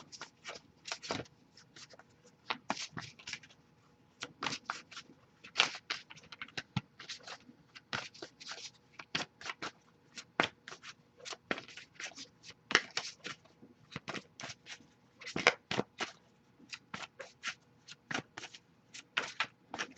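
Playing cards being shuffled repeatedly during a tarot reading, quick papery riffles and flicks in irregular bursts, close and fairly soft, with no talking.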